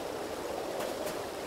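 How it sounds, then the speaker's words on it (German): Fresh mountain spring water flowing steadily in the video game Satinavs Ketten, a constant soft rushing trickle, close and even throughout. "Frisches Bergquellwasser."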